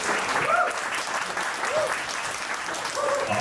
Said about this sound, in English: One more round of applause for the shapers.